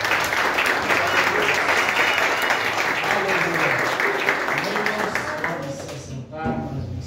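A church congregation claps steadily through a Saturday worship service, dense and sustained applause filling the room. Voices sound beneath it, and the clapping thins and fades near the end.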